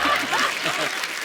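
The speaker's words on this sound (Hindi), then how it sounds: "जोरदार तालियां हमारे तीनों लेजेंड्स के लिए।" Short burst of audience applause and cheering for three singers at a musical night, with scattered laughter and voices mixed into the clapping throughout.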